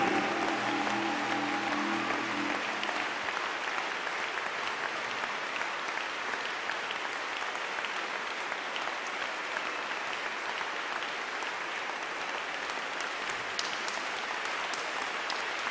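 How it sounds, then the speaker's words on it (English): A church congregation claps in sustained, dense applause that continues steadily at an even level, with a brief low hum or voice in the opening seconds. "Are you sure you are clapping for the king of the kingdom?"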